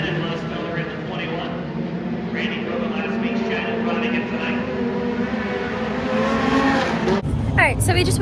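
Modified race cars roar on a dirt track at Bloomsburg Fair Raceway, their engines forming a loud, continuous drone that swells and shifts, with voices talking over the racket and a sharp burst of noise near the end.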